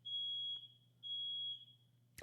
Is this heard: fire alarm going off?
yes